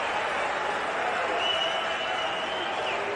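A cricket crowd at a Pakistan versus South Africa Test match applauds a Kagiso Rabada shot, a steady distant wash of clapping and cheering under a commentator's voice.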